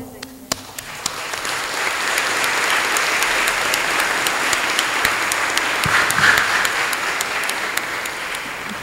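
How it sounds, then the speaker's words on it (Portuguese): A crowd at an open digital communication class breaks into applause that swells within a second and holds as a thick, steady roar of clapping. "Então, gente, hashtag palmas."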